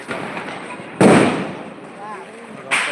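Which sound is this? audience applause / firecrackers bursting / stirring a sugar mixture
firecrackers bursting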